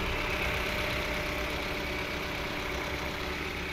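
A 2015 Kia Cerato's 1600 cc four-cylinder, 16-valve engine idles steadily with a constant low hum and faint mechanical knock, unbroken for the whole stretch.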